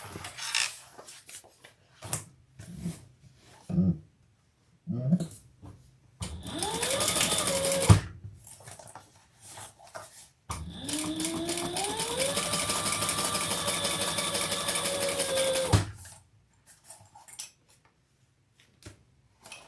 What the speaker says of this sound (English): let's turn that over and top stitch.